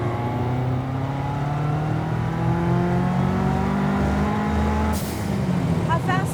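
A 1973 VW Super Beetle with a 517 hp Subaru engine accelerates hard, its engine note climbing steadily in pitch, loud and close, before easing off near the end.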